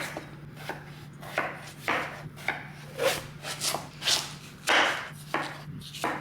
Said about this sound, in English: watermelon's all cut up